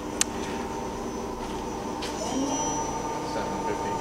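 A ROMI CNC/manual flat bed lathe with a 12-inch three-jaw chuck spins at 500 RPM, giving a steady mechanical hum and faint whine, with a single sharp click near the start and a slight rise partway through.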